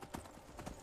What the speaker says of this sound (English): this horse that I've stolen, once I get off this horse, it'll just walk back to that camp